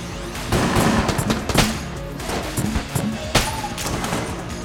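A T-shirt cannon fires repeatedly during a room-clearing fight in the game Enter the Gungeon, a barrage of punchy booming shots and clattering hits in irregular bursts, loud and dense with faint talk.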